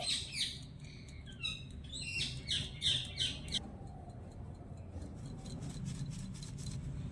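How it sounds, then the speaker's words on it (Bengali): Dry cake ingredients of flour, baking powder and milk powder are shaken through a sieve in quick rhythmic rasping bursts, close and clear, before fading into softer scraping. "এবারে শুকনো উপকরণগুলো এভাবে করে একটু ছেলে নেব"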